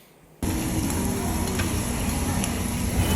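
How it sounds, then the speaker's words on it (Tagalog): Samgyeopsal pork and cheese bubbling on a tabletop grill; after a brief quiet moment a steady, close, hissing sizzle starts and continues without pause, with no talking. "Ayan, kumukulo."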